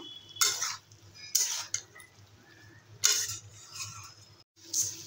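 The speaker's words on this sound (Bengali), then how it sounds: "ভালো করে 2 মিনিটের মতো একটু কষিয়ে নেব।" Nutrela soya chunks and pointed gourd are stir-fried in a pan, with about five distinct bursts of a spatula scraping and clinking against the metal over a low background hum, and no talking.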